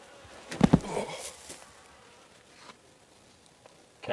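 A desert honeybee buzzes in a brief, loud burst near the start, then faint insect hum and scattered small sounds follow in a quiet outdoor setting.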